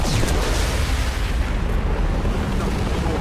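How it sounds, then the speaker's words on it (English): A loud, sustained explosion in the video game Mass Effect 2 roars as a dense, rumbling blast that stays powerful and steady for several seconds. "It's going to explode."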